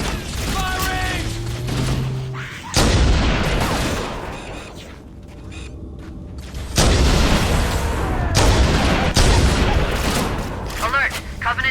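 Weapons fire in the Halo: Combat Evolved Anniversary video game comes as bursts of shots and heavy booms over mechanical clatter. Loud volleys start abruptly around three and seven seconds, with in-game voices talking between them.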